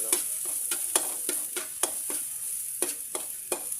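Onion, garlic and ginger sautéing in a pan for a crab and squash dish in coconut milk. A continuous close, bright sizzle runs throughout, broken by a regular series of quick scraping spatula strokes, with no voices.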